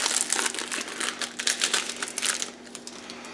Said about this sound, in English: let's go ahead and open these cards up